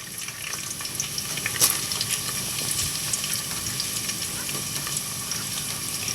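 Onions and curry leaves fry in hot oil for a mutton dal gosht masala, a steady close sizzle and crackle that persists throughout, with one brief sharper pop.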